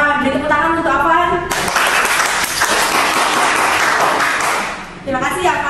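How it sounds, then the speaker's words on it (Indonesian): Classmates in a school classroom applaud a student who has just answered a math question, a loud burst of clapping that follows a voice, runs for a few seconds, and then gives way to talking again. "beri tepuk tangan untuk Afan"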